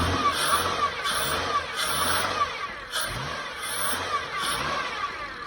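A car engine with a bad rear motor mount runs while shifted into reverse, a moderate idle hum with rhythmic engine surges about once a second, heard from nearby and fairly quiet.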